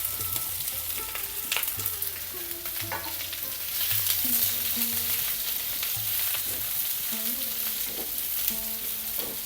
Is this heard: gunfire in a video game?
no